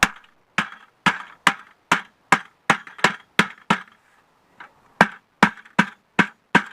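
A lid being hammered onto a plastic bucket set on the ground outdoors, sounding as sharp, loud, evenly spaced knocks, about fifteen strikes, with a short pause near the middle before the blows resume.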